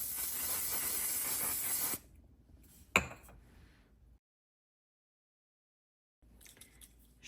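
A setting spray gives one loud, continuous misting hiss for about two seconds, then stops; a sharp click follows in the near silence.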